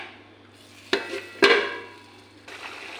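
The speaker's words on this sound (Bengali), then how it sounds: "এখন একটু ঢাকা চাপা দিয়ে দেব" A lid set on a cooking pot of boal fish simmering in mustard paste, giving two quick metallic clanks close by over a faint steady kitchen hum.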